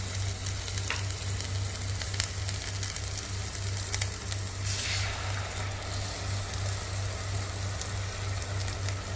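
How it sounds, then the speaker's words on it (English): Whole masala paste for a crab masala curry fries in hot oil, giving a steady, dense sizzle with a low constant hum beneath it and a brief louder burst of spattering midway through; no one speaks. "Now here we'll add the whole masala paste."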